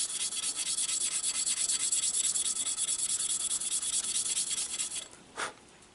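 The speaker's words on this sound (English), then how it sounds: "I'm going to take this rust eraser." A rust eraser rubs rust off a metal blade edge in close, rapid back-and-forth strokes, a steady dry scrubbing that stops abruptly near the end, followed by a single short scrape.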